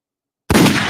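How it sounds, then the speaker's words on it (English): A gunshot sound effect cuts in sharply after a moment of silence, a single loud blast with a rough, noisy tail. "Hold on, we got the gunshot."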